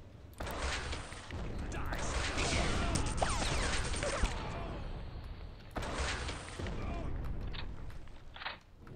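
Gunfire in the Red Faction game, recorded while riding the local Metro: sustained loud bursts of shooting with mechanical clatter, a brief pause, then another long volley.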